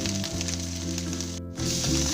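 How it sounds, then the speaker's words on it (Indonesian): Egg and rice stir-fried for nasi goreng cikur sizzle in a pan in a steady, close crackle with a low rumbling hum beneath it and a brief break before the frying resumes. "Kita tumis dan kita goreng sampai matang ya."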